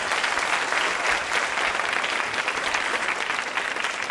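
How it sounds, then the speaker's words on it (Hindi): Loud, sustained applause from an audience at a college quiz show, steady and dense throughout with no pauses. "तालियां जोरों से बजाइए उनके लिए आप।"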